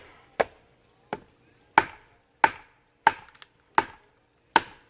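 A Sog Jungle Canopy machete hacks into knotty wood in seven sharp, evenly spaced chops, each a crisp close impact that rings out briefly before fading, with no talk over them.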